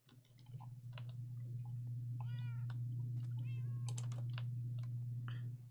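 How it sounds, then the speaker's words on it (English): A pet cat meows several times in short, varied calls, close and clear over a steady low hum, with no talking. "It's my actual cat."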